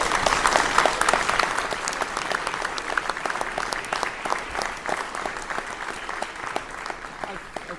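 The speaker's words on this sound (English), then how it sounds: "Let's give them a round of applause." An audience at a brass band masterclass applauds steadily for several seconds, many hands clapping in a dense, even patter that tapers off slightly at the end.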